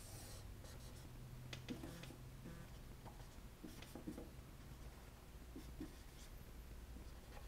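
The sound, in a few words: drawing and labelling an angle by hand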